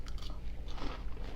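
Crunchy bites into homemade crispy fried calamari, a few close crisp crunches and chewing over a low background hum.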